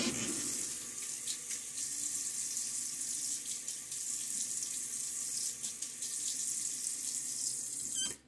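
Bathroom tap running steadily into a sink to wet a face before a wet shave, a continuous close hiss of water, then cut off abruptly at the end.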